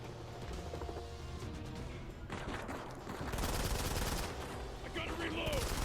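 Gunfire in the mobile shooter Modern Combat 5, sustained rapid automatic fire that rumbles on continuously and grows louder and denser toward the end, with faint game effects mixed in.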